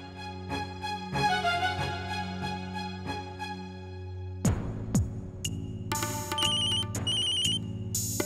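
A telephone rings during a call, first as a rhythmic, evenly pulsing ringtone and then as a sharper run of electronic beeping tones, with no one speaking.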